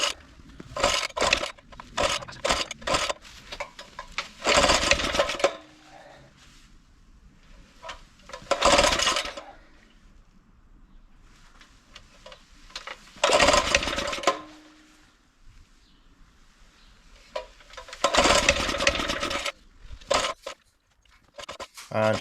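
A Suffolk Super Punch 17-inch lawn mower's engine being pull-started, with repeated bursts of rasping cord pulls and cranking that nearly catch, separated by short quiet gaps, close and fairly loud.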